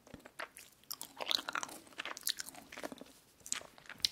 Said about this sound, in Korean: 이 잣박산이 되게 맛있네요